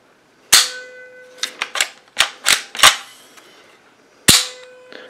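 Sharp metallic clicks and snaps from the bolt catch of an airsoft gun being worked by hand, a loud opening click followed by a quick irregular cluster of five or six clacks, then one more loud snap near the end, close and alone.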